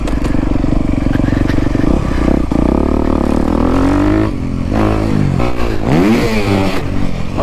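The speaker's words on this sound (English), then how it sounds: "Panic rev, you heard, I'm sure." A 2023 Honda CRF 250R dirt bike engine roars and revs hard over a jump, pitch rising and falling in quick sweeps with a sudden panic rev, loud and close with wind and clatter.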